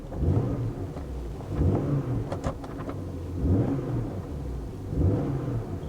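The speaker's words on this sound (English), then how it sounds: "Let's give it a little throttle." Saturn Sky engine revved repeatedly with throttle, three or four rising-and-falling rev swells over a steady idle rumble, heard close by.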